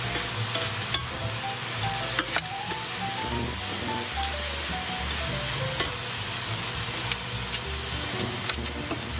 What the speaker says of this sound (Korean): 냄비에 썰어둔 김치도 넣고 함께 볶아줍니다.